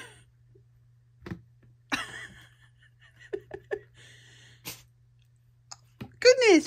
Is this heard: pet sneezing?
yes